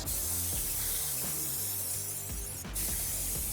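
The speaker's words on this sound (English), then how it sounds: "What I'm gonna do is hit this with some brake clean, get this cleaned up." An aerosol can of brake cleaner sprays Harley Sportster motorcycle parts with a loud, continuous hiss that lasts the whole few seconds, broken only by a brief dip near the end.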